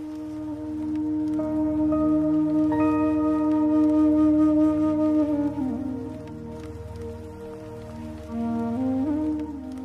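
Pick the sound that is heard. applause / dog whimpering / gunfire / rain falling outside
rain falling outside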